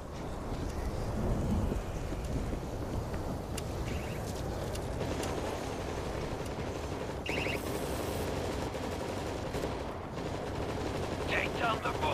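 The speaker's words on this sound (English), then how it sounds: "Stationary machine gun in position." A stationary machine gun fires in the video game World War Z, a dense roaring barrage of gunfire mixed with game chaos and explosions, loud and continuous throughout.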